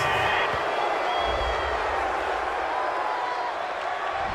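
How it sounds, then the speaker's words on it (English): Home crowd at a football stadium cheering after a game-ending interception, a broad, steady roar that stays loud and distant for the whole stretch. "This home crowd, they're happy with that call."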